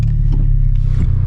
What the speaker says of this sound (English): Start up the car.